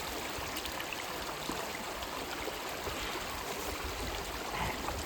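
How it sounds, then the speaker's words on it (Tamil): A small mountain stream near a village in Russia flows with a steady, dense rushing and babbling wash of water, close and continuous throughout. "இதுதான் சால்வியா ஓடை தண்ணீர், குட்டி ஆறு."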